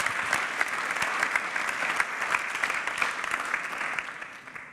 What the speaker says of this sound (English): Make an applause to this guy.